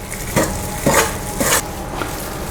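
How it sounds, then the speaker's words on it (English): A utensil scrapes and swishes through oil in a bowl, with three or four distinct stirring strokes, close and fairly quiet. "And just give the oil a mix in."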